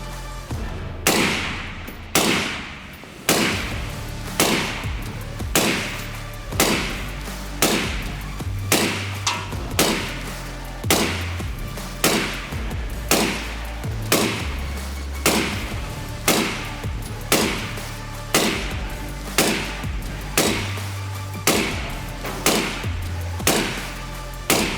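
Suppressed 5.56 NATO rifle shots through a KGM R556A2 suppressor, fired at about one per second as a steady string of roughly two dozen evenly spaced, muffled booming cracks, with no talking.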